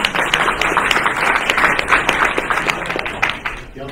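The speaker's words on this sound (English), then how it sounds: "Let's give Hometown Roots another round of applause." Audience applause at a community land forum afternoon session, a dense run of clapping that fills the room steadily for several seconds before thinning out near the end.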